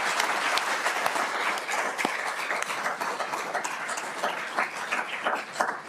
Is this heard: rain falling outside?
no